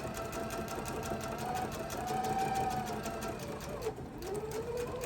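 A sewing machine stitching a quilt block, its needle running in a fast, steady, even chatter at close range, with a brief pause and change in pitch near the end.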